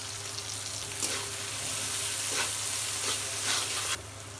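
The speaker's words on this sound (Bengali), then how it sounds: "পেঁয়াজ ভাজার উপরে লবণটা দিয়ে দেবো" Salted onions fry in a hot pan, a constant crackling sizzle with a few louder bursts of stirring, close and continuous until it eases near the end.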